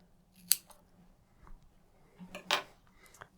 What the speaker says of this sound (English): And then you can just trim off the end.